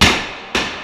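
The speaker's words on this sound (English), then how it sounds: "no one can deny the 45 is fun to shoot" Two sharp, loud gunshots from a .45 pistol, about half a second apart, each a sudden crack followed by a ringing decay.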